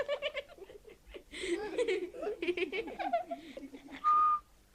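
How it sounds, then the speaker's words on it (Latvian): A cartoon character whistles a few short tones amid chattering, giggling voices, ending on one clear sustained whistle. "How do you whistle?"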